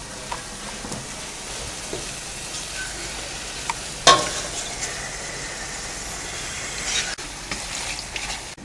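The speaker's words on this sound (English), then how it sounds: "now I'm gonna add it into the sauce" Cuttlefish pieces go into a pan of sizzling romesco sauce, giving a steady close frying hiss with stirring, and a sharper burst of sizzle about halfway through as they hit the hot sauce.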